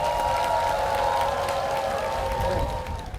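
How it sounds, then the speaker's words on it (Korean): Audience applause at a Korean Taego Order Buddhist release ceremony in Jeju: a steady, dense wash of many hands clapping, fairly close and even throughout, fading slightly at the end, with a sustained tonal hum running beneath. "큰 박수 한번 보내주시기 바랍니다"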